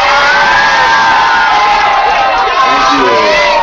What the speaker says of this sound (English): I'd like to give Scott a big round of applause and good luck.